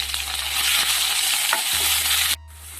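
Crushed small shallots fry in hot oil with curry leaves for a banana stem and bean curry, giving a loud, continuous sizzle with soft stirring scrapes. The sizzle dips abruptly near the end.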